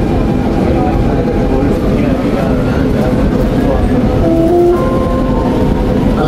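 An underground metro train runs at high speed through a tunnel, giving a steady loud rumble and rattle with faint tonal squeals throughout, and a voice speaks over it.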